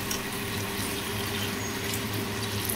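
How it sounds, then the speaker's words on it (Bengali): Okra (ladies' finger) frying in a pan gives a steady, dense sizzle that runs loud and unbroken throughout, with no voices over it. "দেখো সুন্দর করে ঢ্যাঁড়সগুলো আমি ভেজে নিচ্ছি।"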